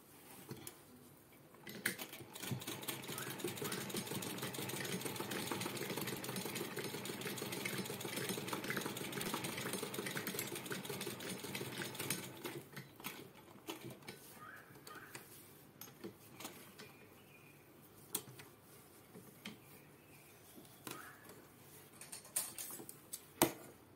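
Sewing machine double-stitching a cloth pouch made from old fabric, a fast steady mechanical whir for about ten seconds, then shorter bursts of stitching separated by pauses and small clicks.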